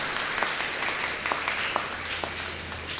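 Applause for church parish youth, a steady patter of hand clapping from an audience in a church, moderately loud and even throughout.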